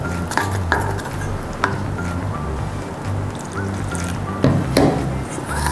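Flour batter is stirred with water in a bowl, the utensil clinking and scraping against the sides in a steady, close, repeated rhythm.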